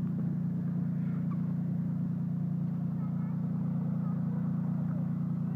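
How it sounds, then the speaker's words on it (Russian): A snowmobile engine runs steadily with a low, constant droning rumble heard from on board as the machine moves slowly through the cold, with no breaks or revving. "Это снегоход, ёпта."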